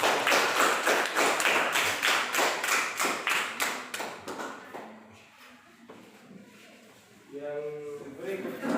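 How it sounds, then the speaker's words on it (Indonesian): A small classroom group claps in a brisk, rhythmic burst of applause that fades out after about four seconds, followed by quiet and then a person speaking. "Silahkan kita berikan aplaus."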